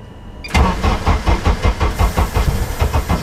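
A Toyota GT86 fitted with a Honda K24 engine prepared for drag racing cranks and fires up, then settles into a loud, lumpy, pulsing idle close by, with no voices.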